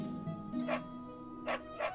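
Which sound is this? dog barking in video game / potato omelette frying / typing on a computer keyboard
dog barking in video game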